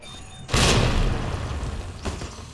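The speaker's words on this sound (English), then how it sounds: "eat that grenade" A grenade explodes in the video game Resident Evil 2 Remastered with a sudden loud boom that rumbles and fades, followed by a fainter second thump.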